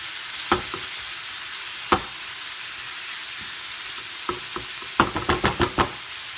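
Smoked bacon browning in a pan, a faint steady sizzle broken by sharp utensil clicks and scrapes, a couple early and a quick cluster of taps near the end.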